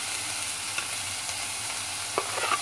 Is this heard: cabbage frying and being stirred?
yes